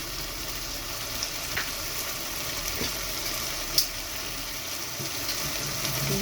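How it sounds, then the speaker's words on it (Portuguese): Seasonings sauté in a pan for a pie, giving a steady, soft sizzle and frying crackle with a few small clinks, heard alone and at moderate closeness. "Enquanto isso, vamos refogando"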